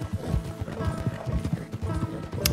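A horse gallops in Red Dead Redemption 2, its hooves drumming a steady, rapid clip-clop rhythm over a low background of ambient game sound.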